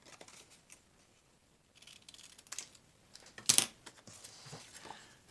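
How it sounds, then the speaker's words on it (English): Scissors snipping through a paper envelope flap, a few quiet, sparse cuts and handling rustles, with one sharper metallic snip partway through. "so that cuts out the flap, and I just need to snip"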